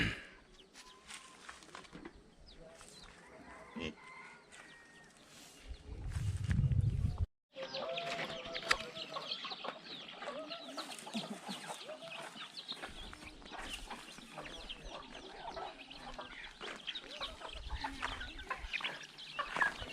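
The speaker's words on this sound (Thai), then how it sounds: "นี่เป็นพี่สาวนะกำลังให้อาหารไก่" Chickens cluck repeatedly while being fed rice at a farm, a busy scatter of near and mid-distance clucks and calls running throughout, with a low rumbling thump partway through and quiet background voices.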